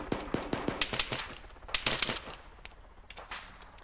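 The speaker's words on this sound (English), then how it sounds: "That's Hob firing right into friendlies." Automatic gunfire in a tactical PMC shooter video game, several quick bursts of sharp, close shots in an irregular rhythm with brief pauses between them, no voices over it.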